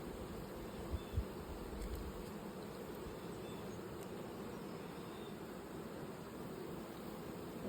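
Honey bees hum around an open hive during a summer inspection, a steady, fairly faint buzzing drone that fills the whole clip, with a couple of soft low thumps near the start.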